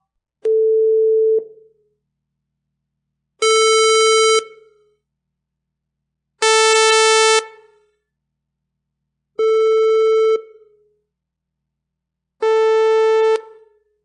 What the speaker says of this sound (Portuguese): Vamos ver aqui agora os sons dos principais tipos de onda.